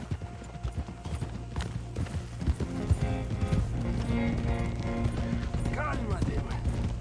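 Horse hooves clip-clop steadily near a manor's stables in the Red Dead Redemption 2 game, under ongoing game dialogue and a low musical bed.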